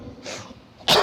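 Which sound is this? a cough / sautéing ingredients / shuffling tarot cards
a cough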